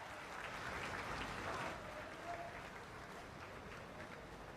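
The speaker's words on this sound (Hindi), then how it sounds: "एक बार जोरदार तालियों के साथ अभिवादन" Sustained crowd applause at the inauguration of Kushinagar International Airport, a dense steady wash of clapping filling the whole stretch with no break.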